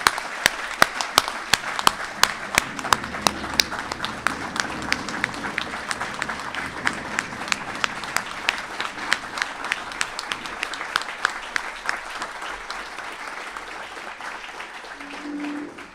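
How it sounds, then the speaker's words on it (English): Sustained audience applause at an internal medicine resident graduation, many hands clapping densely with a few sharper claps standing out, fading toward the end. "Let's give our staff a huge round of applause."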